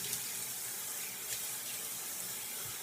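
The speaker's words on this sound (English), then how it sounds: "I'm just going to splash water just to get it off my face." Water pours steadily from a bathroom tap into a sink as it is splashed onto a face, a close, continuous hiss and patter with faint splashes and no talking.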